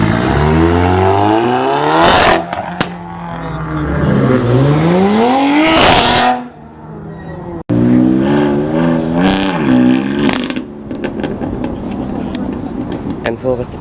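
Modified cars including a BMW M4 and a Nissan S15 leave a car meet at Cobham Services, engines revving hard and climbing through gears up close, with a loud pass-by mid-way and a crowd talking underneath.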